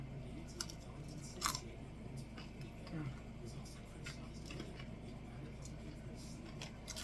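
Crisp roast pork skin is crunched and chewed up close, with a few sharp crackling bites over a steady chewing texture and a low background hum.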